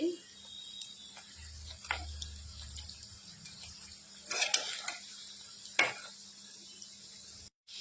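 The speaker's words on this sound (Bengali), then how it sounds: "আমি এগুলো এভাবেই ভেজে নিচ্ছি।" Sabudana and potato pakoras frying in hot oil, a steady soft sizzle with occasional clinks and stirring sounds from a utensil, heard close and moderately quiet with no one talking.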